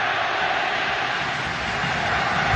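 A roaring stadium crowd at the GBK in Jakarta during an Indonesia versus Japan under-19 football match, a steady wall of cheering that swells slightly at the end, with no clear speech.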